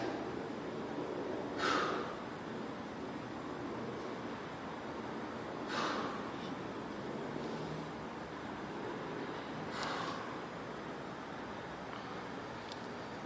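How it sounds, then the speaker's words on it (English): Slow, deep breaths during a stretching exercise, three soft airy inhale-exhale swells spaced about four seconds apart, close and quiet against faint background hiss. "Deep breaths."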